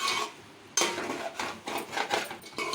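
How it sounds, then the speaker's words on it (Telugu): A brinjal and chana dal masala curry being stirred in a pan: a close series of irregular scraping clinks of a utensil against the metal, with short pauses between strokes. "మనం ఒకసారి కలుపుకుందాము చూసారు కదా ఈ విధంగా కలుపుకోవాలి"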